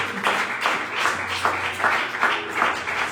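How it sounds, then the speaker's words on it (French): A church congregation claps together for the Lord and the Holy Spirit during a Sunday service, a steady, fairly loud wash of hand claps that keeps going the whole time without any voices on top. "Podemos aplaudir ao Senhor, ao Espírito Santo."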